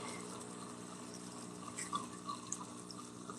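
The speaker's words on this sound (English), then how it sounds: "hopefully get some water going in here" Water runs steadily from a tap into a sink with a constant, faint rushing and a few small splashy peaks near the end, with no voices.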